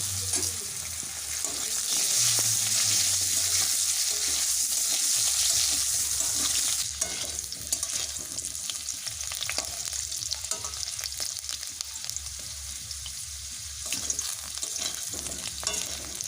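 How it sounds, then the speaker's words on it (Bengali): Potatoes fry in hot oil left from frying bata fish, a constant, bright sizzle punctuated by scraping and stirring sounds from a spatula in the pan, up close and unbroken. "ওই তেলেই প্রথমে ভেজে নিচ্ছি আলু"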